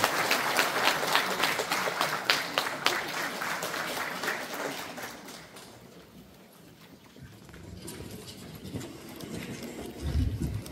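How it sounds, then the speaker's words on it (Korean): Applause welcoming the chair of the National Education Commission to the podium for a keynote in a large conference hall at the National Assembly building, clapping that dies away by midway, leaving low room noise and shuffling. "박수로 맞아주시기 바랍니다."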